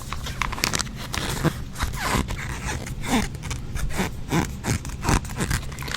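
Close, continuous rubbing and scraping on a container's label, with faint squeaks rising through it, steady and textured for several seconds.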